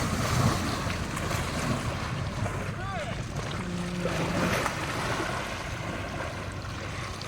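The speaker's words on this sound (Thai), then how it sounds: "อู้ขมืนอาบน้ำทีน้ำสะเทือนหมดเลย" An elephant bathing churns the water, giving a steady broad splashing wash mixed with wind noise and outdoor rumble throughout.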